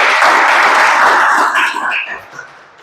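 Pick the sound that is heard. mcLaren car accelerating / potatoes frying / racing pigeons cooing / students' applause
students' applause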